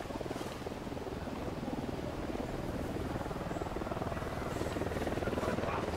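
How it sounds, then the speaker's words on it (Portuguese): Helicopter in the tactical shooter Ghost Recon, a steady droning rotor hum with a fast pulsing chop that holds at a constant, fairly close level throughout. "Opa, helicóptero me viu."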